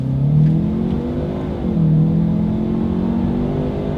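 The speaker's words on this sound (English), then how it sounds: "let's do a quick little acceleration and let's see how quickly we can get the new 2020 Lincoln Nautilus up to speed" A 2020 Lincoln Nautilus SUV, not the twin-turbo V6, accelerating from inside the cabin: a smooth engine hum climbing in pitch, dipping briefly at a gear change, then climbing again, with no talk over it.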